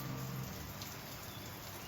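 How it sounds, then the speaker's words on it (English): Heavy rain in the rainy season pours down steadily outdoors, a dense, even wash of hiss and patter with no pauses or voices. "It's kind of typical for our rainy season, but still, it's, coming from California, that much rain is about all you get in a year."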